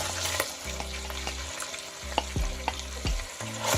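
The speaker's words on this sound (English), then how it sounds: "So now I'm going to add my fresh sliced onions." Fresh sliced onions drop into a hot pot for a bean stew with smoked turkey and fry with a steady sizzle, while a spoon stirs and scrapes with a few distinct knocks.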